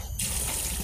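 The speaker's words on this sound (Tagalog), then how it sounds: "hugasan po natin siya gamit ang running water" Tap water runs steadily into a sink, rinsing Taiwan herbs for a medicinal pork soup. A broad, close, constant gush starts after a brief moment and continues throughout.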